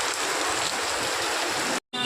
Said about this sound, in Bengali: এই যে এত বৃষ্টি হচ্ছে